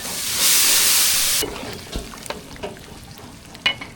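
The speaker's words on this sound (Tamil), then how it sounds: "இப்போ தாளிப்பு சாம்பார் கூட சேர்த்துக்கலாம்" Tempering of spices and asafoetida poured into sambar, hitting with a loud, broad sizzling hiss for about a second before settling into softer crackles and pops as it is stirred.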